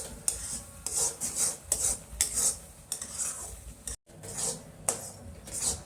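Mava stirred in a pan while cooking down for peda: a spoon scrapes and rasps against the pan in rhythmic strokes, close and fairly loud, about ten passes with a brief break midway.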